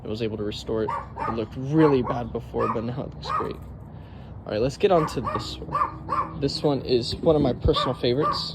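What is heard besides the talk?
dog barking in the background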